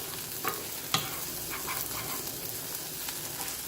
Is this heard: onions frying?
yes